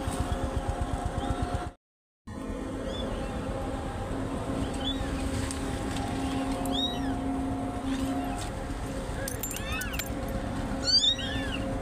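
Several small abandoned kittens meow in the rain in high, thin cries, scattered and repeated, over a steady low rumbling background hum.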